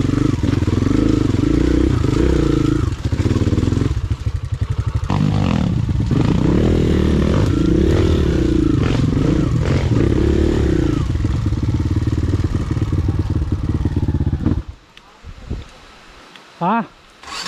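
A motorcycle engine out of tune idles and revs unevenly on an old logging road trail, sputtering and hesitating for several seconds before cutting out into quiet with brief voices.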